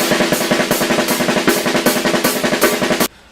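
A gravity blast drum beat with steady hi-hat, kick and snare hits in a tight repeating groove, close and punchy, ending abruptly after about three seconds.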